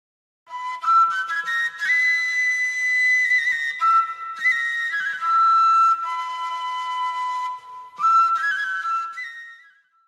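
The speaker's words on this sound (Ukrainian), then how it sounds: "Сопілка." A sopilka, the Ukrainian wooden flute, plays a clear, sustained melody of held whistling notes with short breaks, heard alone and fairly close.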